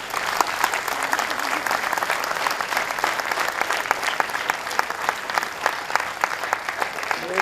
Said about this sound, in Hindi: हमारी इन बच्चों की हौसला अफजाई के लिए एक बार तालियां बजा दें